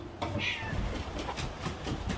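A cat gives a short meow close by, amid rustling background noise.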